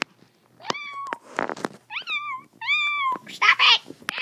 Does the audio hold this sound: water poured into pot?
no